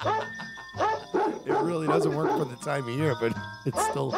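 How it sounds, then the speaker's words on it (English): Dogs bark and yip along with a Christmas song recording playing on a radio show, the barks forming the tune over music, with someone talking over it throughout. "Dogs are barking."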